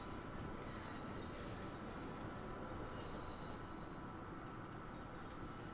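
A London Underground Bakerloo line train runs in the Train Sim World 2 video game, giving a steady, loud rolling rumble with faint wheel squeal over the rails. No voices are heard.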